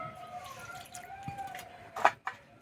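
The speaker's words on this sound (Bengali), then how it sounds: "বাটিতে দেব জল" Water poured from above into a bowl while preparing a spice mix for steamed hilsa fish, giving a short splashy pour with a couple of drips near the end over faint background hum.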